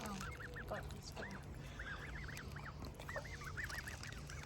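A goose beside a canal honks in repeated bursts of short nasal calls, fairly close and loud, over a steady outdoor background hum.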